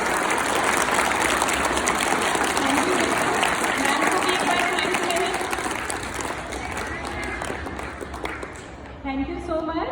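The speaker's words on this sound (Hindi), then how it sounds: "तो एक बार जोर से तालियां बजाएं।" A school event audience applauds loudly and steadily for several seconds, the clapping thinning out near the end as a voice comes in.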